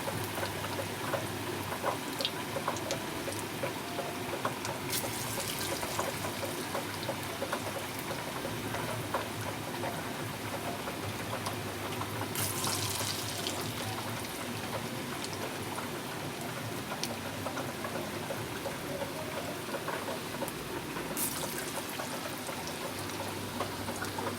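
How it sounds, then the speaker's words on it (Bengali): Soyabean pakoras frying in oil in a pan over low heat, giving a continuous, close crackling sizzle that stays even throughout with no voices. "তো আমার ফ্রাই চলছে, দেখতেই পাচ্ছেন আপনারা।"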